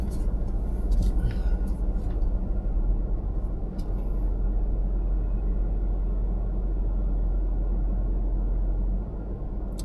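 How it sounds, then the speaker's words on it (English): A car driving slowly around a lane, with a steady low engine and road rumble continuing throughout and a few faint higher rattles early on. "So let me drive around a little bit more."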